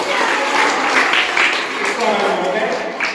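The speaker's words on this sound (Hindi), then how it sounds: "एक बार जोरदार तालियां।" Audience clapping at a school geography quiz competition at a Jawahar Navodaya Vidyalaya in Gangapur City, a dense, steady burst of applause heard throughout, with voices mixed in.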